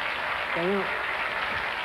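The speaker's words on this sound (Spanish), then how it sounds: "Le damos un aplauso a nuestro querido sí, director" Audience applause in a theater audience rises as a steady wash of clapping, with a brief voice breaking through midway.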